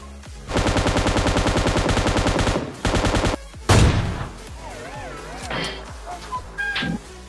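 An M249 machine gun fires in a video game in a long, loud sustained burst followed by a shorter one, then scattered impacts and electronic game effects trailing off.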